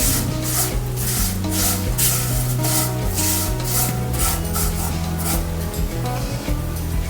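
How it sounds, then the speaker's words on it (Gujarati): Vermicelli is dry-roasted and stirred in a pan over a low gas flame, making a steady scraping rub throughout, with background music playing. "આપણે સ્લો ગેસ ઉપર આ સેવને બ્રાઉન કલર થાય ત્યાં સુધી શેકી લઈશું"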